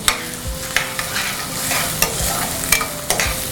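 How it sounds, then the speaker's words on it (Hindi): Onions frying in hot oil as they are being stirred for vegetable cutlets, a steady close sizzle broken by several sharp scrapes and clacks of the spoon against the pan, with no talking. "प्याज को अच्छी तरह भून लेंगे."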